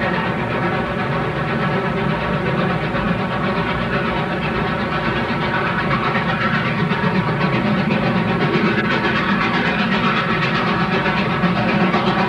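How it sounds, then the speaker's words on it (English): A Southern Pacific Lark passenger train, detoured through the valley toward Mojave, rumbles past in a steady, loud roar of engine and rolling wheels that stays constant throughout. "This is the southbound Lark, normally a coastline train, which has been detoured down the valley"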